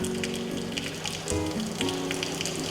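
Steady hiss of water spraying from the hot valve of a Winnebago EKKO outside shower, a continuous broadband rush with splashing texture throughout, fairly close and alone.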